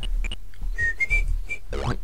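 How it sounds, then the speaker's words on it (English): A person whistles a short, bright tune of several quick, high notes with pauses between them, close and clear, ending in a rising, wavering run. "I shouldn't whistle."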